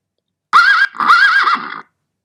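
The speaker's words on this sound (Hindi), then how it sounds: "तो जैसे आपने घोड़े की आवाज़ सुनी" A horse whinnies loudly in one vibrating, wavering neigh lasting just over a second, close and isolated against silence.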